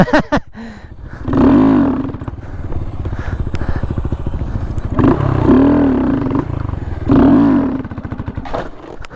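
A Honda Grom motorcycle engine revs hard in repeated surges, rising and falling between throttle bursts and idle, loud and close, with brief clatter at the start and end.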